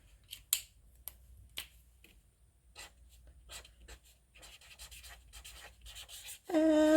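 Pen scratching across a mail envelope, short faint strokes and taps in an irregular rhythm, close and quiet, ending with a louder tonal sound at the very end.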